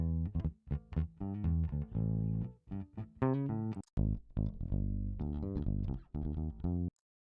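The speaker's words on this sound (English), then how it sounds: "Nice live bass guitar loops." A punchy bass guitar groove with short, plucked notes and brief gaps, playing a funky repeating line before stopping abruptly.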